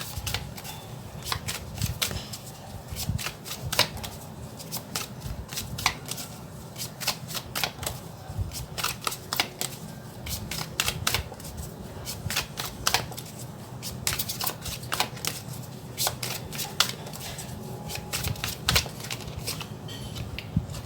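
Tarot cards are shuffled by hand in a continuous stream of crisp, rapid flicks and riffles, close and steady for the whole stretch with no one speaking.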